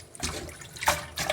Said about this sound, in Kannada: ನಾನು ತೊಳಿತಾ ಇದ್ದೀನಿ. ಸೊ ಪಾಲಕ್ ಸೊಪ್ಪನ್ನ ನೀವು 2 ಸಲ 3 ಸಲ ತೊಳಿಬೇಕು.